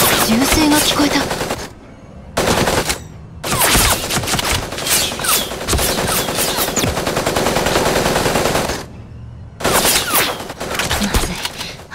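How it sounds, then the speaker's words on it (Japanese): Long bursts of rapid automatic gunfire in the video game Super Mecha Champions, loud and close, broken by a few brief pauses. "銃声が聞こえた。"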